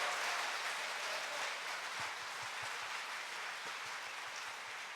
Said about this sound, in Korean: 우리 주방팀 너무나 수고 많으신데 박수 한번 해주십시다